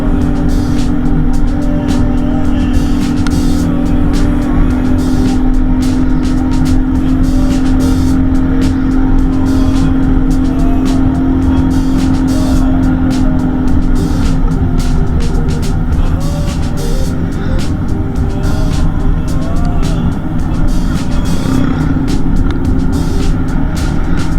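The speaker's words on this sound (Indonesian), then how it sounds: "Di sini saya mulai memperlambat laju motor saya" Motorcycle riding along a road on the way back from Situ Salawe in rain, its engine a steady loud drone whose tone drops midway as the rider slows down, with constant wind and road noise throughout.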